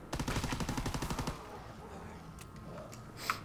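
A rapid string of about a dozen sharp, evenly spaced shots fires from a pack-a-punched M1 rifle in a WW2 zombies video game, loud and close, then stops abruptly, leaving quieter game ambience.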